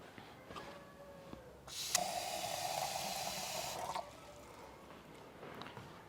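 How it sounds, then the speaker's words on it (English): Water pours steadily into a crock pot around a jar of herb-infused tallow balm, a continuous close splashing rush lasting about two seconds before stopping, with quiet room tone and small clinks on either side. "And then we're going to go ahead and add water."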